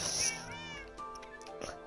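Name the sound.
cat meowing in a video game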